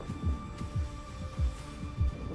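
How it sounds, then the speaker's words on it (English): A low heartbeat in the game Honkai Star Rail, soft paired thumps repeating in a slow steady rhythm under a faint background hum. "I don't like heartbeats."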